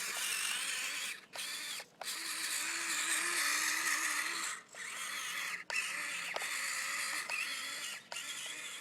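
A tiny ECX Temper 1/24-scale RC crawler runs at full speed over gravel with a high-pitched whining, ratcheting gear buzz, close and steady, broken by several brief stops and restarts.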